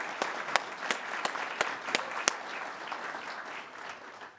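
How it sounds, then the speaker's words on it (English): Guests at a Town of Penfield swearing-in ceremony give a round of applause for town workers, starting with a few sharp individual claps that swell into a soft, moderate wash of clapping that fades out. "a quick round of applause for our town workers"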